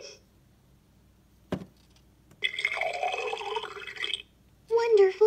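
A Fisher Price Smart Stages toy tea kettle, a short electronic pouring and bubbling effect after a sharp click, followed by a bright recorded toy voice.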